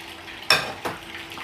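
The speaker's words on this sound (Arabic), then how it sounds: "لما تيجي تحمري الممبار بالذات بتاعك لازم تكون معاكي غطا، لازم اوكي، لانه بيطرطش احيانا" Crispy mumbar, stuffed intestines, frying in butter and oil, with a steady close sizzle and two sharp bursts of spattering about a third of a second apart, with no talk.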